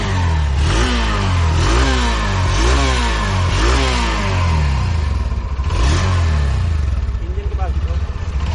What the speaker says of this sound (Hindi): इसके जो साइलेंसर का साउंड है